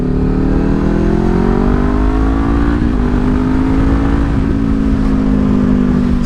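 A Ninja 500 motorcycle fitted with a cheap slip-on exhaust runs loud and close, its engine note climbing steadily through the gears as it accelerates, with no talk.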